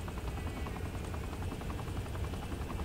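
A helicopter in the video game Saints Row IV, its rotor giving a steady, rapid thumping chop under a continuous engine drone, moderately loud and unbroken, with no speech.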